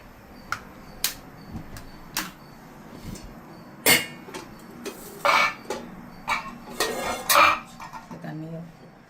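Metal pots and an idli steamer are set down on a home kitchen stove, giving a scattered series of sharp clanks and clatters, fairly faint, with quiet room sound between them.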